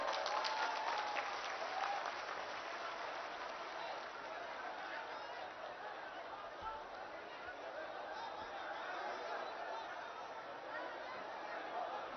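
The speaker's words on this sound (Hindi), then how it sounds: "एक बार जोरे करो ताली दें।" A large crowd at a political election rally claps in a long, continuous roar of applause, heard from a distance with faint chatter and laughter mixed in.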